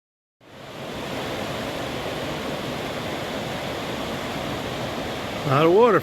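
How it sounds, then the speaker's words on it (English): A river runs beside a hiking trail on the Appalachian Trail along the Schaghticoke, giving a steady, close broadband rush of flowing water, with a voice cutting in briefly at the end. "A lot of water flowing there."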